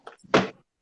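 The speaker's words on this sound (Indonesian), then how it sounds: "Nutup pintu dulu." A door shuts with a single solid thunk, close and fairly loud, preceded by a faint knock and brief shuffling.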